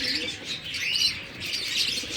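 Pet pigeons, a flock of dark birds kept at home, cooing and chirping softly nearby in a continuous murmur, with faint wing rustles and no talking.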